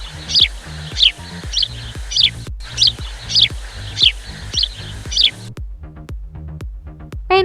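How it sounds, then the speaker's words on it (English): A sparrow repeats sharp, high chirps about once a second, close and clear over a low rhythmic backing track. "Sparrow. Sparrow."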